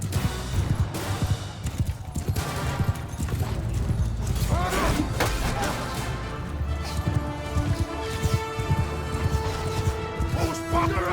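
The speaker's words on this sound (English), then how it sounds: "Horse archers charge." Horse archers charging in the video game Mount and Blade II Bannerlord: dense, continuous clattering hooves and battle clashes with scattered impacts and crashes, loud and busy throughout.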